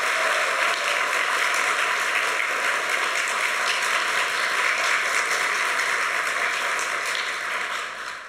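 An audience at a poetry contest and scholarship ceremony applauds poets and teachers, with steady, full clapping from many hands that holds even before tapering off at the end.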